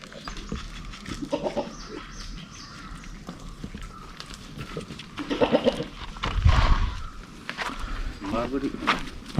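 Beetal goat kids on a Kerala goat farm, with scattered bleats and general livestock noise among other farm animals, while someone talks throughout and the sound swells louder near the middle.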